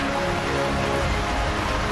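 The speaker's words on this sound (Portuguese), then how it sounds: "aproveitando esse momento de chuva, que eu adoro" Steady rain falling, a dense, even hiss of drops that stays close and constant with no voices over it.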